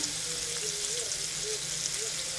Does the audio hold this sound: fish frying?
yes